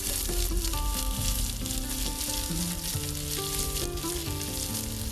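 Onion sautéing in oil with garlic on a medium flame, a continuous close sizzle and crackle mixed with stirring, with a steady tonal hum running underneath.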